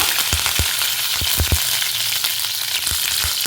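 Freshly washed curry leaves and fenugreek seeds sputter and crackle in hot oil, a loud steady sizzle broken by sharp popping bursts throughout, with no talking.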